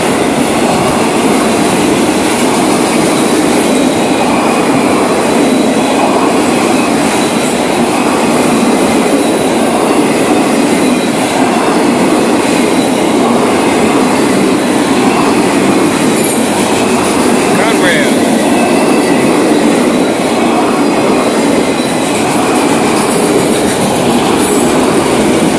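A long freight train of Florida East Coast Railway, hauling Conrail and other cars, rolls steadily past close by, with continuous loud clickety-clack from the wheels and occasional squeals, no pause for the whole stretch.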